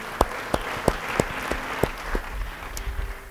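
A church congregation applauds during a sermon, with sharp, evenly spaced claps standing out above a softer spread of clapping, moderately loud and steady, some claps echoing in the hall.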